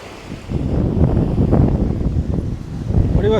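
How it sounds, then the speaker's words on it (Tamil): Rough sea waves at Crow Island beach park in Colombo, surf rushing and churning in a continuous loud wash under heavy wind buffeting the microphone. "கடல் ரஃப்பாக தான் இருக்குது இங்கால."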